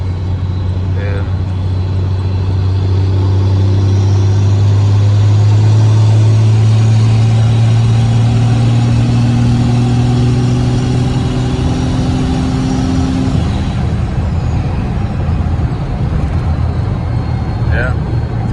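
A compound-turbo 12-valve Cummins diesel truck with S480 and HE351 twin turbos pulls steadily at full throttle with the torque converter locked, a loud sustained engine drone rising in pitch over about thirteen seconds before easing off.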